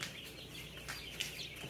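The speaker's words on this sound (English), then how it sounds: "Careful with the chickens, Kerrigan." A flock of meat chickens on a small farm clucks softly and continuously, with scattered brief calls rising over a steady, fairly quiet background and no talk.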